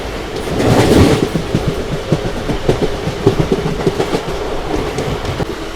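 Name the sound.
train running on track, merging onto Chikkamagaluru line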